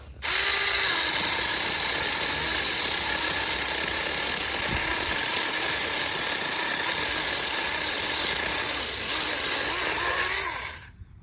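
Saker mini chainsaw making an undercut in a tree, a continuous high, buzzing motor whine held steadily for about ten seconds before cutting off, close and loud with no talk.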